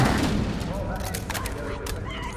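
Dense gunfire in the Halo Campaign Evolved campaign mission on the Pillar of Autumn, a loud continuous barrage of shots and blasts with clattering bursts throughout, no clear pauses.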